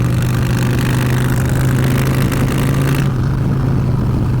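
A Honda Fury motorcycle engine rumbles steadily up close, a continuous low throbbing drone with a slight shift in tone near the end and no talking.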